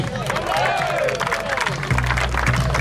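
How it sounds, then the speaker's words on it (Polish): A crowd applauds the players at a club championship celebration, with clapping and cheering mixed under an amplified voice and background music. "Wielkie, wielkie brawa dla zawodników."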